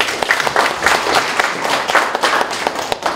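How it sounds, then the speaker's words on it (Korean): An audience at a Korean CEO-course lecture bursts into applause, a dense, steady patter of many clapping hands that fills the room with no talk over it. "박수 한번 주십시오."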